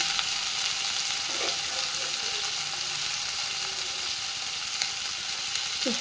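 Cabbage and chilies fry in a pan with a steady, close sizzle and crackle, punctuated by a few soft stirring scrapes, no voices.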